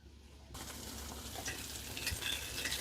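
Homemade meatballs being turned and browned in a frying pan, a steady sizzle and frying hiss with soft stirring scrapes that starts abruptly and stays fairly loud and continuous throughout.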